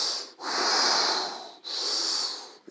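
Two long, forceful open-mouth exhalations of audible yoga breathing, loud and close, each a breathy rushing hiss separated by a brief pause, with a short sharp intake at the end.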